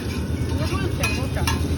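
Onions frying in hot oil in a pan for chowmein, a steady close sizzle with stirring scrapes running throughout.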